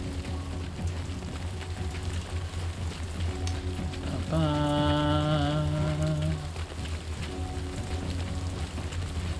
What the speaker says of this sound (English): Gonna rain soon. Oh yeah, Rain.